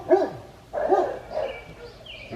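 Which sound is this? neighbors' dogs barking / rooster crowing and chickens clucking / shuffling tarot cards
neighbors' dogs barking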